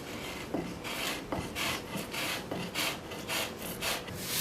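A travisher and spokeshave smooth a wooden chair seat, producing close, rhythmic rasping strokes about every half second to second, each a brief scraping swish across the wood with no voices.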